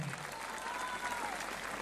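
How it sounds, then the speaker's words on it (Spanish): Crowd at a rodeo in Ejutla de Crespo, Oaxaca, giving a brief, steady wash of applause heard from a distance, dense and even throughout. "Venga el aplauso, aplauso bonito, señoras y señores."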